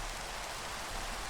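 Rain falling in the video game Minecraft, a soft, even hiss of steady rainfall that stays constant and fairly quiet for a brief moment, with no voices over it.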